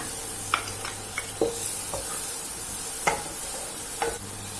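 Stir-frying garlic and carrot with salt in melted butter in a pan, a steady close sizzle throughout, broken by several sharp scrapes and taps of the spatula against the pan.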